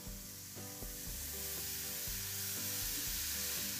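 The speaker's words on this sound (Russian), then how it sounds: "разогреваем нашу сковородку и будем жарить" Crepe batter sizzles in a hot frying pan, a dense, steady crackling hiss with faint background music and no speech.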